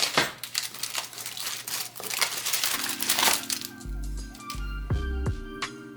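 A knife slices through pellet-smoked BBQ beef short ribs cooked on a Pit Boss smoker, with soft squishy cuts and crackles close up, followed by a few low thuds.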